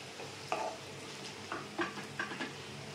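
Onions and green chillies fry in a pan for brinjal fry, with a low steady sizzle broken by a few sharp spoon scrapes and clinks against the pan.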